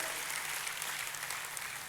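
Church congregation applauding at a service, steady dense clapping filling the space throughout, fairly faint and without voices.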